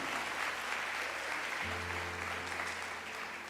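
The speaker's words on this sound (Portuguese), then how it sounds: "Você pode aplaudir o Senhor?" A church congregation applauds in steady, dense clapping throughout, with a low sustained organ or keyboard tone entering partway through beneath the applause.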